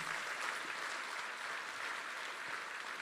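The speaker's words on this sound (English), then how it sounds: "And I request you to give a thundering applause" Sustained crowd applause at a felicitation event honouring badminton champion P V Sindhu, a steady dense wash of clapping from a large audience with no pauses.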